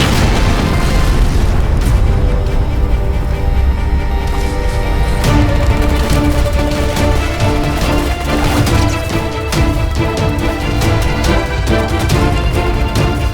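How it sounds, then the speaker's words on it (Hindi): Gunfire and booming blasts from a Hindi action film fill a dense, loud mix that runs without a break, with sharp repeated bursts layered over music and rumbling. "फायरिंग इसी तरफ से।"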